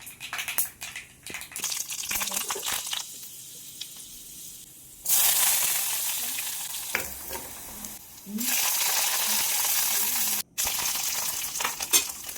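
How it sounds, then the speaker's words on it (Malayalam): Sardines fry in a pan with a steady broadband sizzle, loud and close, broken by stirring scrapes and short quieter gaps, no talking. "കുറച്ച് മത്തിയും കൂടെ ഞാൻ വറുത്തെടുക്കുന്നുണ്ട്."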